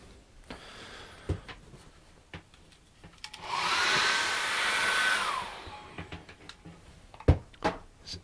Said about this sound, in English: I'm going to dry this off with a hairdryer